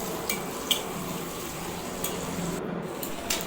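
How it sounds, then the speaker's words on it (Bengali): Tomatoes and onions frying in a pan, a low steady sizzle with occasional soft clinks of a spatula stirring, fairly quiet and without speech. "টমেটোটা দিয়ে দিলাম, দিয়ে ভালো করে নেড়ে নিলাম। আস্তে আস্তে টমেটোগুলো ভাজা হয়ে যাবে"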